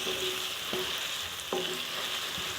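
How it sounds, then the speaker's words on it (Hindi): Chicken keema sizzles steadily in ghee in a pan, a constant frying hiss with a few faint clinks of stirring and no voice. "कीमा भुन चुका है"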